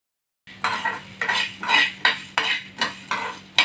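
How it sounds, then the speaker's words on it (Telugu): Dried red chillies are snapped and broken into pieces by hand in a kitchen, producing a series of sharp, close crackling snaps at a steady rhythm, each break distinct. "ధనియాలు వేగేలోపు మనం ఎండుమిరపకాయలు ముక్కలు చేసుకుందాం."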